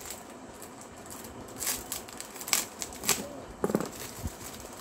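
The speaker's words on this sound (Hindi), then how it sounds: "इसको भी मैं थोड़ा काट लेती हूँ।" A soft, powdery white slate pencil is cut into small pieces, giving a few brief, crisp crunching snaps close up over a faint, steady background hiss.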